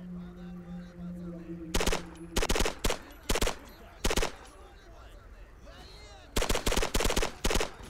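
Gunfire in S.T.A.L.K.E.R. Clear Sky, loud bursts of rapid automatic fire in several clusters, with quieter gaps of ambient noise and a low hum between volleys.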